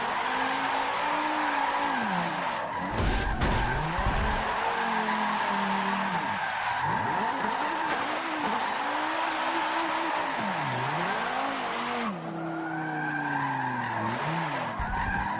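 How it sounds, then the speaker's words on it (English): A drift car with a modified suspension and angle kit skids repeatedly, tires squealing in long sweeping tones. The engine rises and falls between the slides, loud and close with no talk. "It's not my best drift car, but it's still..."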